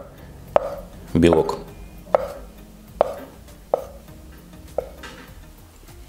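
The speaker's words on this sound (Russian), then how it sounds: "И потом вот такой вот соломкой нарезаем" A knife chops boiled egg white into thin strips on a board, with about five sharp, separate taps spaced roughly a second apart and a brief scrape in between, close up, while someone speaks.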